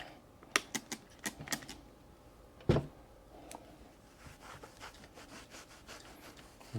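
Chicago Cutlery razor blade being stroked across a cheap diamond sharpening stone, giving a run of sharp, rhythmic scraping swipes, fairly faint and close, with one louder stroke and softer strokes trailing off.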